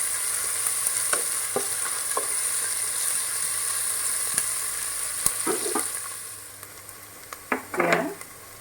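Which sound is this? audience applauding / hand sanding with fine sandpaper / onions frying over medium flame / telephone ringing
onions frying over medium flame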